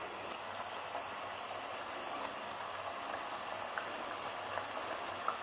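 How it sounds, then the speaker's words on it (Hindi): Namak paray fry in oil on a medium flame with a continuous, soft bubbling hiss, close and steady with no talk. "अब हम इसको फ्राई करते हैं।"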